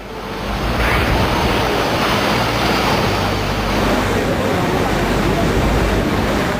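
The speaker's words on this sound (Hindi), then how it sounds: "गोविंद घाट में अलकनंदा नदी बहती है।" The Alaknanda river rushes loudly past Govind Ghat in flood, a constant dense roar of churning water with wind buffeting the microphone, steady throughout and without speech.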